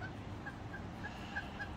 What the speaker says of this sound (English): You gorgeous little parrots. Or lorikeets.